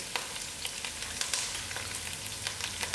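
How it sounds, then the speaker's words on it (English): Thyme with ginger and garlic frying in hot oil for a chicken feet and gram dhal dish, making a dense, even sizzle with small crackling pops scattered throughout, close and steady with no one talking. "now I'll put in my thyme to fry with"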